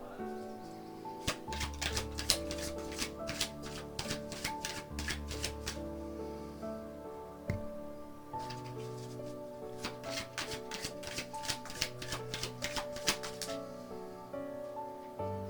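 A deck of tarot cards is shuffled by hand in short, repeated bursts of riffling and flicking, with steady soft music playing underneath throughout.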